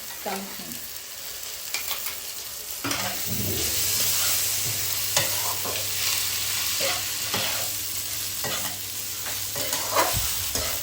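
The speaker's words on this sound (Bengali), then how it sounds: "এর সঙ্গে ভাজা ভাজা হবে মশলাটা" Ginger, garlic and green chilli paste with onion frying alongside rice in a pan, giving a steady close sizzle broken by repeated stirring scrapes, with no talking.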